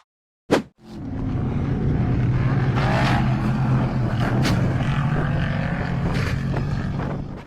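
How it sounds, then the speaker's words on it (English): Off-road race truck at a 4x4 hill climb, its engine roaring loud and steady over dirt after a brief sharp impact near the start, with no voices. "The off-road race truck blasted over the dirt bump and launched high into the air"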